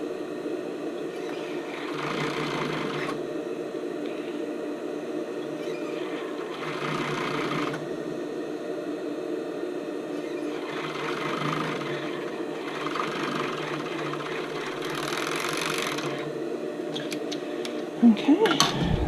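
A home sewing machine stitches the seams of a lace-up tank top in several steady, close bursts of rapid whirring separated by short pauses, with a little handling noise at the end.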